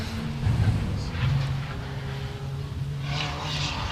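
Todd Reed's Reed Speed Fortunato race car passes the trackside camera, a steady engine drone swelling briefly and then holding at moderate distance, with no voices over it.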